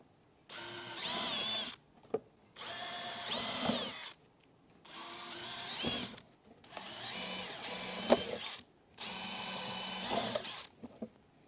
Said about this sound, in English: We're going to drill out 4 of these front rivets here.